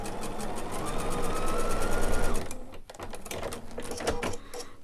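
A sewing machine stitches the top and bottom layers of a quilt block, running in a fast, steady close whir that breaks off briefly and then resumes in shorter bursts.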